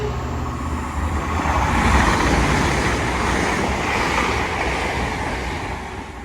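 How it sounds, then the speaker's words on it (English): A Class 800 express train heading for Manchester Airport passes straight through a station at Rainhill. It makes a loud, steady roar and rush that builds slightly and then holds, with no talking. "This train now passing through is a Class 800 X-Brand Express train going to Manchester Airport."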